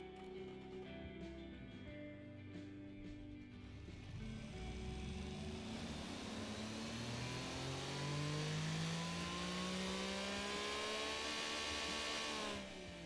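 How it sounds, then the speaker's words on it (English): A car engine in the game Automation revs on a dyno test, starting at idle and then climbing through rising revs to a sustained high-pitched roar before easing off, fairly faint with no talking. "Just want to see how responsive it is, so I'm gonna do a simple dyno test."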